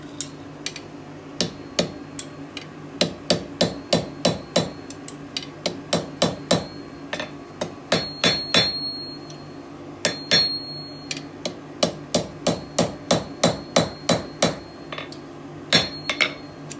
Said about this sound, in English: So I do that on the step with this bit hot and just work it down with the hammer.